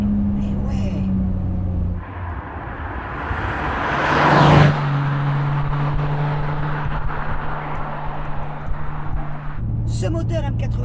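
BMW M635CSi with the M88 straight-six engine driving, a steady engine drone and road noise with the note rising around mid-clip, heard from inside the car with people talking over it.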